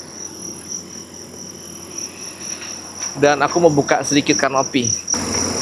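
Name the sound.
crickets chirping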